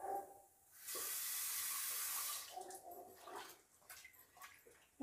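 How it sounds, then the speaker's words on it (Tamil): Water poured from a vessel into a pot of drumstick dal on the stove, a steady broadband rushing splash lasting about a second and a half, then softer clinks and kitchen handling sounds. "கொஞ்சம் தண்ணி ஊற்றிக்கலாம்."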